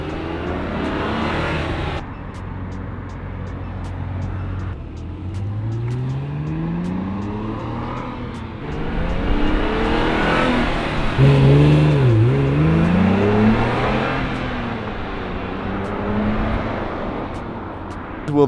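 A 2005 Acura NSX sports car engine revs and accelerates through rising gear pulls, loud and close, with the engine note climbing and dropping between shifts and a brief surge partway through.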